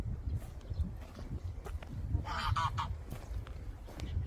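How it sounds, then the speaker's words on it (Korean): A goose honks in a short burst of calls in the middle distance over steady low outdoor rumble on a Korean farm field. "거위가 저기 있어가지고"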